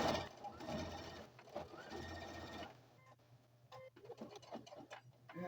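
Sewing machine stitching fabric binding, running in short bursts forward, a few stitches back, then forward again, fairly close, before quieter handling noises.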